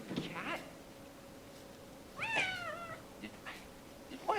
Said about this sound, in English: Yeah, you stupid cat.